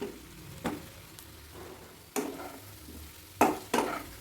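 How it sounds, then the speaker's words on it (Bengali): Fried potatoes being stirred into masala in a pan, a soft low sizzle broken by several scraping clacks of a spoon against the pan, the last two close together. "এবার ভালো করে মশলার সাথে মিশিয়ে নিচ্ছি।"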